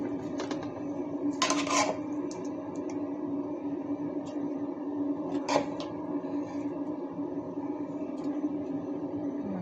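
A spoon serves rice and curry onto a plate, producing a few sharp metallic clinks and scrapes in separate bursts over a steady low room hum, close by with no talk.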